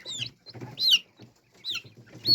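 Close, high-pitched cheeping from a chick, several short peeping calls with soft rustling and clucking between them.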